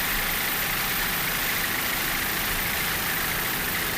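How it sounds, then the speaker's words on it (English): A 30-foot Doug Wright built racing catamaran with twin Mercury 280 hp outboard engines drones steadily and evenly, a continuous mid-level engine roar with no speech. "It's a 30-foot Doug Wright built catamaran powered by twin Mercury 280 horsepower outboard racing engines."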